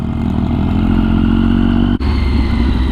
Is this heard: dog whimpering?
no